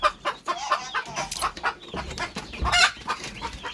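Farm chickens and turkeys cluck and squawk in a busy overlapping chorus, close by, with sharp calls rising above the flock's steady chatter.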